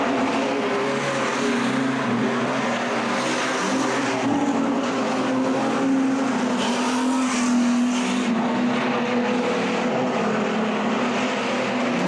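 Street stock race cars lap a track during official practice for a state title, a continuous loud engine roar with tire noise that rises and falls as the cars pass, heard without talk.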